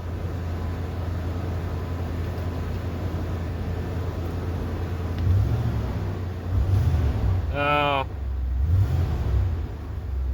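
A Ford F-150 pickup idles steadily after a cold start, its low rumbling engine running continuously with a slight rise in revs near the middle and a brief whine over it.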